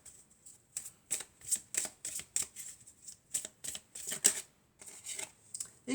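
Tarot cards are shuffled by hand in a run of repeated crisp, riffling bursts with short pauses between them, close and fairly quiet, with no talking.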